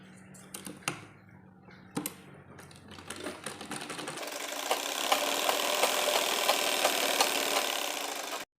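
A sewing machine running straight stitches on a Patiala salwar. It starts with a few sparse clacks and short bursts, then settles into a continuous, fast mechanical rattle that grows louder and steadier at close range.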